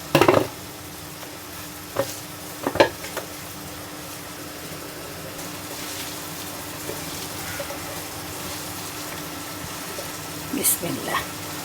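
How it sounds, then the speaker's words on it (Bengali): Small fish are gently turned in a frying pan, with a soft continuous sizzle of oil and a few scraping stirs. A voice talks quietly over the cooking. "মাছগুলোকে এখন আলতোভাবে নেড়ে চলা"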